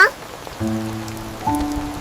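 Rain falls as a steady, soft hiss of drops, with two brief sustained tonal sounds rising above it partway through.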